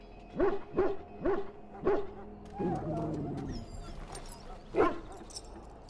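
A dog in the video game Dragon Age: Origins gives four quick, evenly spaced barks, then a whimpering yip a moment later while a voice talks, and ends with one more loud bark, all close and clear.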